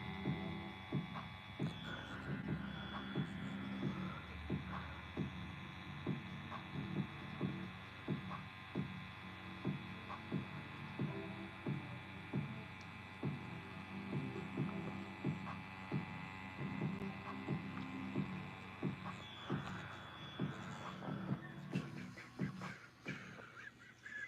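A tattoo machine running with larger needles during line work on a hand, giving a steady mechanical hum with a rhythmic throbbing pulse that continues without pause throughout.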